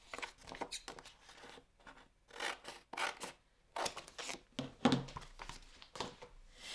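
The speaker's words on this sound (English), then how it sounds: "So I'm just going to cut a piece over from here." Scissors cut through a piece of acrylic glitter sheet in a string of short, close rasping snips and scrapes separated by brief quiet pauses.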